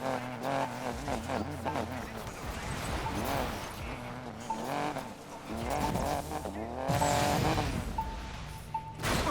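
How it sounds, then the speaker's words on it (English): Car engine revving and tires squealing as the brakes bite in the racing game Need for Speed Payback, with wavering engine tones and skidding screeches under a player talking throughout. "Just slamming on the brakes."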